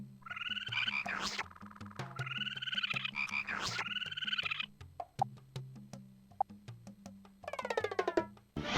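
Frog croaks from the DVD-ROM game Tree Frog come in rhythmic bursts of loud, buzzy calls, the game's music playing beneath them, with quick clicking effects toward the end.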